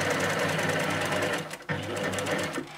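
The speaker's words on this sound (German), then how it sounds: "Nähe also mit dem Geradstich einmal entlang der angegebenen Linie." A sewing machine runs a straight stitch along a felt Christmas boot with a steady, fast mechanical whir. It stops briefly midway, then carries on close and loud.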